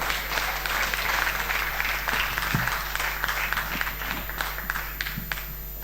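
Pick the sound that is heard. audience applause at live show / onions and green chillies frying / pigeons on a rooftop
audience applause at live show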